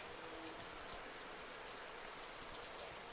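Heavy rain falls steadily outdoors in Alaska, a dense, even hiss with soft patter that stays constant and fairly close throughout, with no voices.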